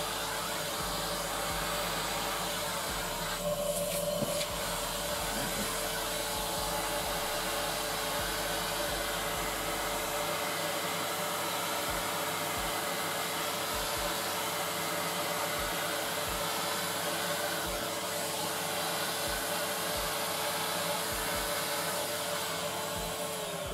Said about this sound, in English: Let me get the hoover.